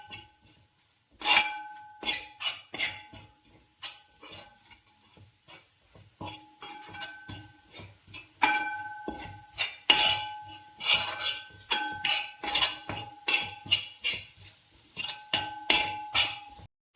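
Chili masala being stirred and roasted in a pan for Kerala fish pickle, with irregular metallic clinks and scrapes of a utensil against the pan, fairly close and sporadic.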